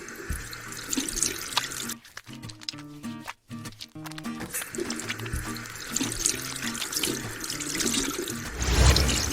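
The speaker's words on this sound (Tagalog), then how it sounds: "Maghugas ng kamay." Hands being washed under a running water tap, a steady flow and splash of water with soft intermittent dripping, close and fairly quiet, with music playing underneath.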